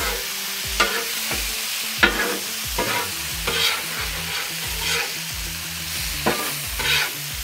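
Pesto-coated pork belly sizzles steadily in a hot pan while a spatula stirs and flips it, giving several distinct scraping knocks over a continuous frying hiss.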